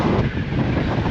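Strong wind buffets the microphone on the Blackpool promenade, with sand blowing in it, making a loud, steady roaring rumble with no pauses.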